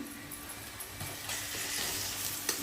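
Masala spices, turmeric and asafoetida sizzle in hot oil for a Maharashtrian eggplant bharit, a soft, steady frying hiss with a few faint stirring touches, close and without talk.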